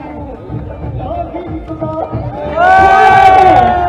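A crowd at the opening of a national junior kabaddi championship erupts in loud cheering and shouts after a stretch of voices and murmur, then stays at a strong, sustained roar.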